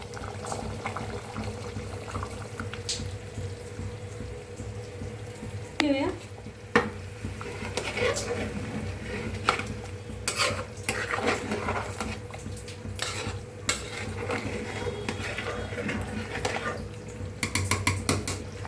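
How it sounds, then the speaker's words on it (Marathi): Heated water goes into a pan of masala chicken, which is then stirred. A steady bubbling simmer runs throughout, with intermittent spoon scrapes and clanks against the pot and a faint voice at times. "बघा आता आणि पाणी तापलंय ती बी पाणी वतून घेऊया आपण"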